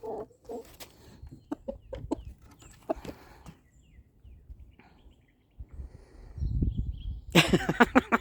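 A pet chicken on a porch gives soft, scattered clucks and small bursts close by amid quiet, with rustling and a louder, busier flurry of clucking toward the end.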